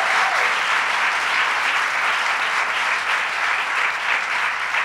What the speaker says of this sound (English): Another round of applause for Deborah Glick